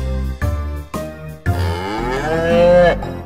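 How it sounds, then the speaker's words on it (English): A cow on a farm lets out a long, loud, drawn-out moo after a few short grunting calls. It is close and clear, with no voices. "A cow is in the barn"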